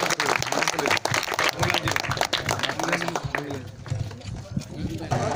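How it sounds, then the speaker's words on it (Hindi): Dense, continuous clapping from an audience welcoming guests at a village cricket tournament ceremony in Chanoudgarh, lively and sustained with a voice speaking over it and thinning slightly toward the end. "तालियों के साथ स्वागत करें।"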